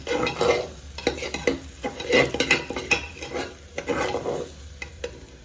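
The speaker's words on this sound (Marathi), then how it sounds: "मटण थोडंसं खोबरं हलवून घेते मी" Mutton and coconut stirred in a hot pan, with repeated scraping strokes of a spoon against the pan over a light sizzle, in uneven rhythmic bursts, close and moderately loud.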